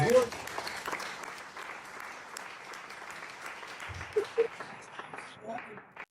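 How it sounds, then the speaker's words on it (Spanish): Applause from a church congregation at a Spanish-language preaching event, moderate and somewhat distant clapping that carries on through the whole span with faint voices mixed in. "Se puede dar un aplauso fuerte aquí."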